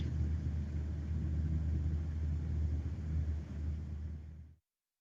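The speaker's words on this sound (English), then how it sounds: "I hear the hum of a garage." A steady low ambient garage hum from the Car Mechanic Simulator 2018 video game, a continuous rumbling drone with engine-like texture that holds evenly before cutting off abruptly near the end.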